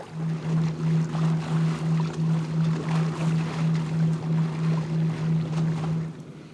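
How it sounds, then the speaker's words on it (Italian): Fishing trawlers working at sea, pairs of boats towing a large net through midwater, give a steady, loud low engine drone that pulses in an even rhythm with wind and water noise. It holds throughout and fades only at the very end, with no talking. "ci sono molti pescherecci a strascico e addirittura ce ne sono 10"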